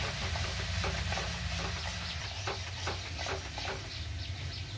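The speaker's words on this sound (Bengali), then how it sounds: "এবার আবারও একটু মশলার সাথে টমেটোটা খুব ভালো করে মিশিয়ে নেব" Spiced masala with tomato paste sizzles steadily in a pan while being stirred, with soft repeated scraping strokes over a constant frying hiss, close and alone.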